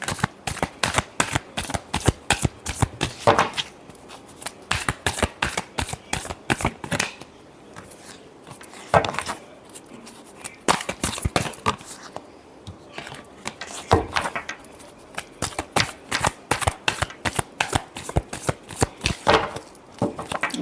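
Tarot cards shuffled by hand in quick, crisp riffling bursts with short pauses between them, close and fairly loud, keeping a steady rhythm throughout.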